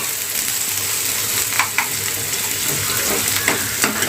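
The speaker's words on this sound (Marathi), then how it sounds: "चांगला फ्राय करून घेऊया कांदा" Onions frying in a pan for bitter gourd curry, a continuous close sizzle with occasional sharp scrapes and clicks of stirring.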